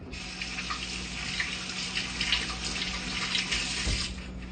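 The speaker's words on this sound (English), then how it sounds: "CDC is saying, wash your hands 22 seconds" Hands are washed under a running kitchen tap, a steady faint stream of water splashing into the sink for several seconds, with no talking.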